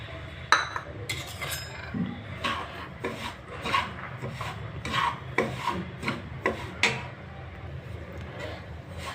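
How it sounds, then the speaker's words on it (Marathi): Dry semolina being stirred and scraped around a hot pan on a gas stove for sheera, giving a steady gritty rasp with repeated sharp scrapes and clinks of the spoon against the metal, close up and fairly loud. "आपण हा रवा भाजून घ्यायचं आहे हे पहा पॅन ठेवलं आहे आपण गरम करायला गॅसवरती"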